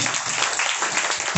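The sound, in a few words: congregation clapping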